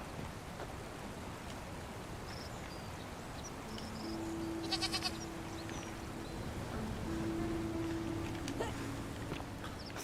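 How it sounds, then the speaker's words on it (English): A goat in The Forgotten City gives two drawn-out bleats, moderately close, over a steady wash of rain-like ambient noise. "Hey, it's a goat."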